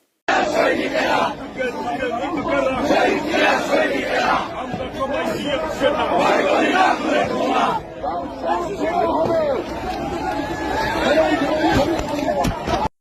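A crowd of BNP supporters chants slogans and shouts while running, a dense, continuous babble of many voices that stays loud and steady throughout with no break.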